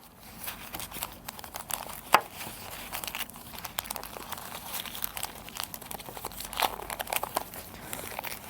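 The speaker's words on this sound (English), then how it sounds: "In the inside is packaged with oil paper." Oil paper wrapping around a new China-made injector valve assembly being unwrapped, close crinkling and crumpling with scattered sharper rustles and a couple of brief crackles throughout.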